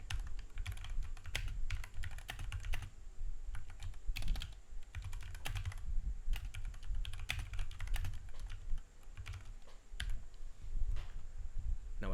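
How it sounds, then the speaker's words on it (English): Typing text on a computer keyboard in Google Docs, a steady run of close, quick key clicks with brief pauses, heard alone without speech. "Now, I can click enter and type my text."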